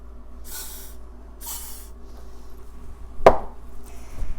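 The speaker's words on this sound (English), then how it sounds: "Spray them with the WD-40." Two short hissing bursts of WD-40 aerosol sprayed onto cups, close and distinct, followed later by a sharp clack and a faint third spritz.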